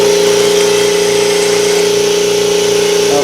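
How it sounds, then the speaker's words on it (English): An air compressor's motor runs loud and close with a steady mechanical hum and a strong sustained whine, unbroken for the whole stretch, with no voices. "I love this compressor"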